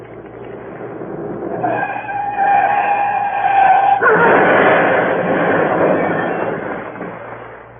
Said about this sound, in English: Reported in stolen car. Large green Daimler speeding south.